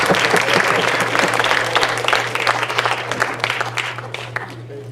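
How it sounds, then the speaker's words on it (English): A conference audience at the GLPA 2018 gathering gives its hosts a big round of applause, a sustained, fairly loud wash of many clapping hands over a low steady hum, gradually thinning out. "let's give our hosts another big round of applause"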